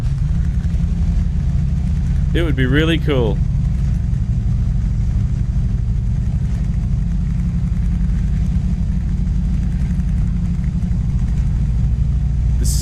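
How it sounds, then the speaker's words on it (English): A DAF truck engine in Euro Truck Simulator 2 drones loud and steady as a continuous low rumble, with a brief spoken remark early on over it. "Give it a nice big rev."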